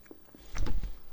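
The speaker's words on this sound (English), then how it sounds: "Chew that up." Close, wet chewing of a burrito, with soft mouth clicks followed by a louder burst of squishy mastication in an intimate, quiet setting.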